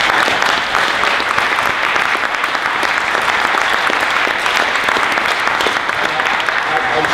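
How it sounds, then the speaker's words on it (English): A panel audience gives a round of applause, loud dense clapping from a large crowd that fills the whole stretch without a break and stays at a steady level. "can I ask you just for a round of applause for the panel?"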